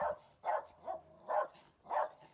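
Dogs barking in Albania, four loud bursts spaced roughly half a second apart, with yelps and whimpery tones between them, heard fairly close with no talking.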